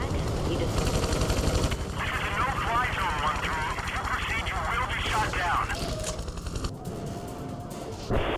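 Rapid gunfire crackling in the Prototype 2 video game amid a helicopter's thumping rotor drone, bursts rattling continuously with a player talking over the loud battle din.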